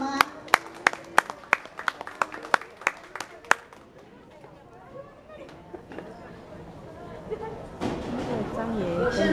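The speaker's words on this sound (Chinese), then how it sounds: "热情掌声先给我们老师好吗？" Scattered, sharp handclaps from a small audience at a community college showcase of classical poetry chanting, spaced and uneven at first, fading into murmuring chatter before a fuller burst of clapping and voices at the end.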